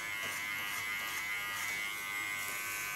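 Electric hair clipper running close up as it cuts hair, a continuous bright buzzing hum that holds steady throughout with no talking.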